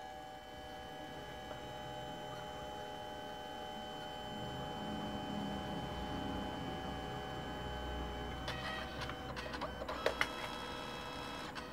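Samsung SPP-2020 photo printer, about seventeen years old, printing a photo: a long steady whirring mechanical drone with a constant hum, ending in a few sharp clicks and clunks as the print finishes.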